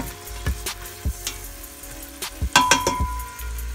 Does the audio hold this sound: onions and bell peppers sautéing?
yes